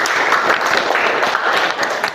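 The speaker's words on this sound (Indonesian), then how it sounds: "tepuk tangan untuk Luki" Classroom applause for a student named Luki, a short burst of quick, fairly close hand clapping from a small group of pupils, brisk and uneven for about two seconds.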